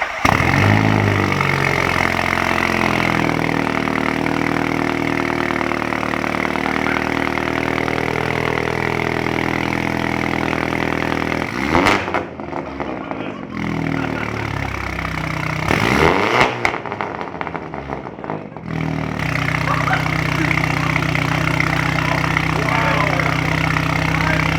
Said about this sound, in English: Get ready, cold start.